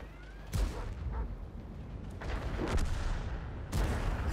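Tank cannon fire in the video game World of Tanks, on the Berlin map: two sharp, booming shots about three seconds apart, over a steady rumble of battle noise, with no talking.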